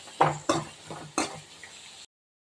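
Radish greens palya being stirred in hot oil in a pan, with several distinct scraping and clattering strokes of a spoon against the pan over a soft background sizzle, close and fairly quiet, ending in silence.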